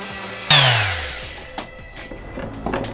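A power sander works a wooden scroll saw art piece, giving a loud whirring burst that starts abruptly and then winds down, with a few light knocks afterward.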